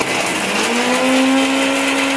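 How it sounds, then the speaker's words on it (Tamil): A kitchen mixer grinder grinding coconut whirs loudly and steadily, its motor pitch rising slightly as it runs, with no voices. "அதுக்குள்ள நான் தேங்காய் அரைச்சி எடுத்து"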